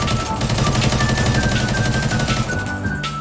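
Sustained automatic gunfire from a teammate in Arena Breakout, a loud, dense, unbroken rattle of rapid shots close by, running steadily throughout.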